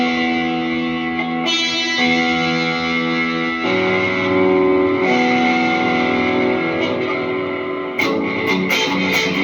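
Electric guitar chords washed in spacious hall reverb, sustained and layered with effects in a post-rock, ambient style, ringing full and steady with shifting chord changes and a long, blooming tail throughout.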